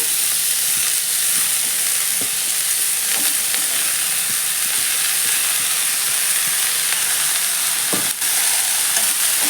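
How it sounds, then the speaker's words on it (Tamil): Steady, loud sizzling and hissing of amaranth greens stir-frying in a hot pan, with occasional soft scraping and stirring clicks throughout. "இப்போ கட் பண்ண கீரை அப்படியே போட்டுக்கலாம்"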